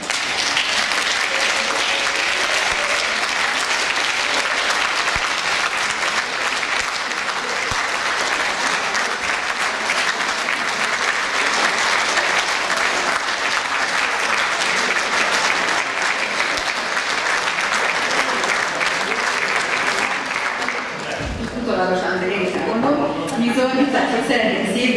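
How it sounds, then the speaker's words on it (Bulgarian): Sustained audience applause fills a hall as devoted supporters stand at a Bulgarian-Hungarian ensemble's 25th anniversary concert, dense and steady for about twenty seconds before cutting off abruptly, followed by a brief quieter stretch of voices. "моля да станете и да бъдете аплодирани от публиката"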